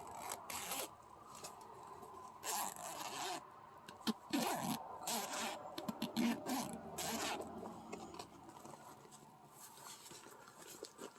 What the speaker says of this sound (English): The zippers are really heavy duty.